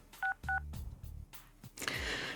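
Two short phone keypad tones beep in quick succession, followed by soft handling clicks and rustle, with a brief swell of noise at the end.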